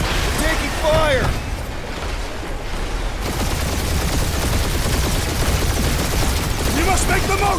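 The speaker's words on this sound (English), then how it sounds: "We're taking fire!" Heavy gunfire in Marvel's Guardians of the Galaxy game, a steady barrage of shots under loud game action, with voices and chirping effects near the start and end.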